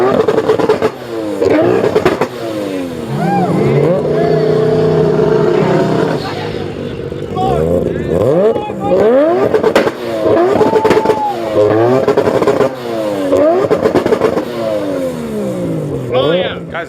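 A three-rotor rotary-engined car at a cars and coffee meet bangs off repeated rising revs against its two-step launch control, loud and close, with people talking around it.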